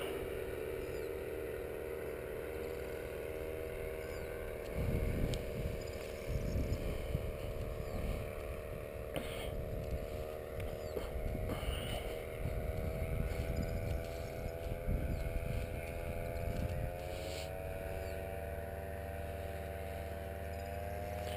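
Paramotor engine droning during a training flight at Persan Beaumont aerodrome, a steady buzzing hum with harmonic whine, wind rushing over the microphone, and engine pitch shifting slightly toward the end.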